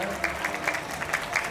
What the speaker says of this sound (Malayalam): എല്ലാവരും ഒരു കൈയടിച്ച് കുട്ടികളെ പ്രോത്സാഹിപ്പിക്കണമെന്ന് വിനീതമായി അഭ്യർത്ഥിക്കുകയാണ്